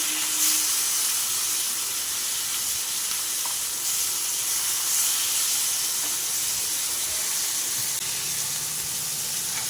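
Fish pieces frying in a flat pan, a continuous close sizzle and hiss of hot oil holding steady throughout.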